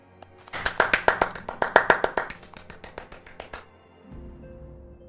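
Applause sound effect from Final Fantasy XIV: Heavensward, a burst of about twenty sharp, regular claps that swell and then fade, followed by a low hum under a brief soft tone near the end.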